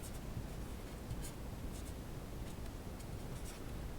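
Pen or pencil scratches steadily across paper while equations are written out by hand, a soft, close, continuous writing sound with brief strokes and no talking.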